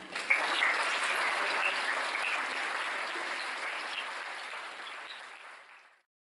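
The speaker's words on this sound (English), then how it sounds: "Round of applause for Kath." An audience at a talk applauds for about six seconds, a steady, close wash of clapping that starts abruptly and fades out gradually near the end.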